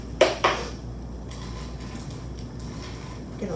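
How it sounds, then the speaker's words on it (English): A metal teaspoon being picked up among dishes in a kitchen while making a mug recipe, with two sharp clinks close together near the start, then quiet handling. "So let me grab my teaspoon here."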